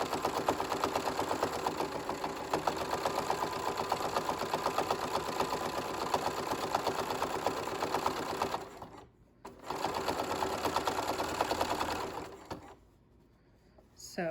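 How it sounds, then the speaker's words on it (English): A sewing machine runs close and steady, stitching a fabric zipper pouch with a fast, even whir. It stops briefly for a pivot, sews another long stretch, then falls quiet. "raise my presser foot, pivot, and sew the other side here"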